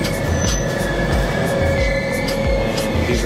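Konkan Kanya Express passenger train travelling between Mumbai and Goa, a loud steady rumble of wheels on rails with a rhythmic clack repeating under it and a faint metallic squeal.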